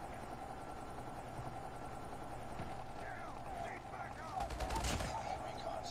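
In the Call of Duty Mobile shooter game, a stealth chopper's rotor drone hums steadily while bursts of gunfire crackle in the background and grow louder near the end.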